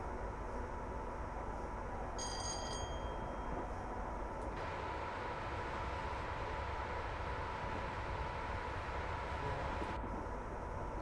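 A Class 87 electric locomotive in Train Simulator runs along the West Coast Main Line over Shap, a steady rumbling drone with a brief high whine partway through and no speech.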